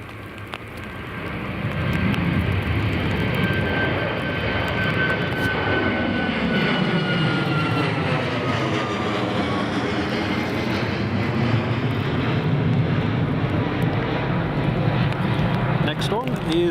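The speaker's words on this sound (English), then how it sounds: "Next one is taxiing out." An airplane taxis out at Newcastle Airport, its engine droning loud and steady with a rising and falling whine as it rolls past, while people chat nearby.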